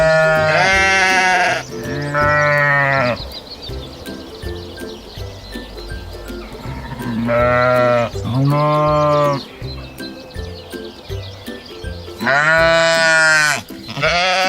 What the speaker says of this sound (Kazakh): Қой маңырайды.